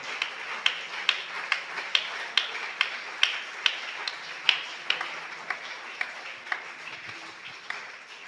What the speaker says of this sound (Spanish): ¿Por qué no le da fuerte ese aplauso al Señor en esta mañana?